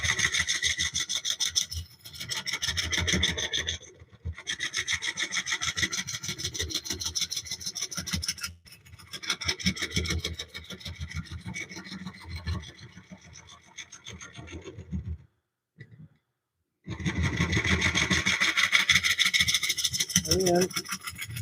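A carbide tool scrapes a rough, lumpy wooden bowl spinning on a lathe, making a loud continuous rasping hiss that cuts out briefly several times, including one clear gap of near silence, then resumes strongly.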